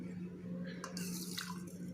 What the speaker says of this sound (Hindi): तो आधा कप मैं इसमें डाल रही हूँ पानी